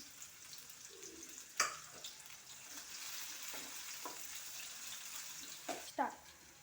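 Onions and green chillies fry in a pan for a crab curry, giving a steady soft sizzle with a few sharp clicks of stirring, moderately near and fairly quiet.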